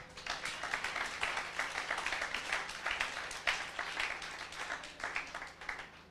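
A church congregation claps and applauds steadily for several seconds, a dense continuous patter of many hands with a distant, roomy quality and faint voices mixed in.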